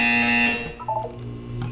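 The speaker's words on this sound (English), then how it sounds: "You will hear a buzzer." A loud, harsh electronic buzzer from the video game Portal 2 blares steadily for about half a second, then cuts off, leaving faint electronic tones and hum.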